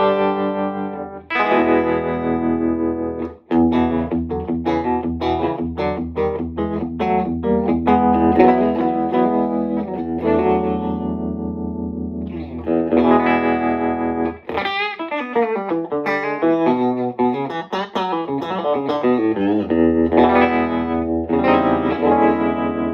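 Electric guitar played through a Vox EF86 amplifier with its tremolo engaged and a touch of reverb from a pedal, ringing chords and single notes pulsing steadily, loud and close with no talking.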